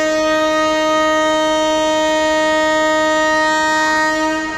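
A passenger train's horn sounds one long, loud, unbroken blast as the train prepares to pull out of a station after the signal turns green.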